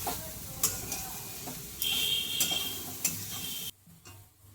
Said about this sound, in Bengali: এইভাবে অল্প নাড়লেই হবে, বেশিক্ষণ নাড়ার দরকার নেই